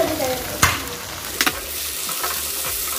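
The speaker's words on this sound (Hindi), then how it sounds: "ये भी इसी के साथ फ्राई हो जाएंगे और मेल्ट हो जाएंगे" Chopped tomatoes and onions sizzle steadily in a hot pan while being stirred, a dense close frying hiss broken by a few sharp spatula knocks.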